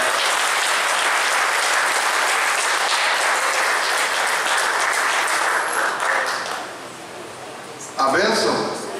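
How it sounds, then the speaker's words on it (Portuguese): A congregation at an Assembleia de Deus church claps loudly and steadily. The applause thins and fades after several seconds, then a voice speaks near the end. "aplaudir ao Senhor."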